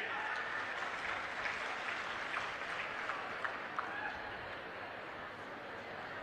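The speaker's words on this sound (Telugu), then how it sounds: "ఏమయ్యా రైతులు గట్టిగా చప్పట్లు కూడా చెప్పండి." Farmers applaud at an outdoor political speech in Kakinada, a distant, steady patter of clapping from a crowd with faint murmurs mixed in, sustained at a low, even level.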